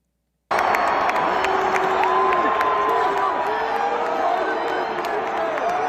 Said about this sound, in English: Hearing cheering,